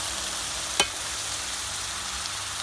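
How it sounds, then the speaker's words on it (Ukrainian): Pork fat (salo) stews with onion in a covered pan, giving a steady, faint sizzling hiss throughout, with one brief clink near the start. "Ось і буде наше сало тушкуватися з цибулею"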